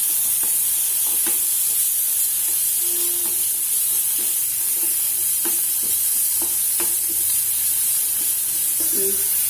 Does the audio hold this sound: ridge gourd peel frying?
yes